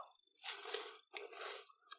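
Japanese cabbage crisps crunch in close bites, two loud crackly chews followed by a short third, heard alone without talk.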